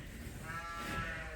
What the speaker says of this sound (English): they have a certain baa they make when they're going into labor